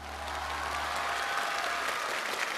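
An audience at a televised Chinese classical poetry and music show applauds steadily as a calligraphy and bamboo-painting teacher is welcomed, a dense, even wash of clapping from a large studio crowd throughout.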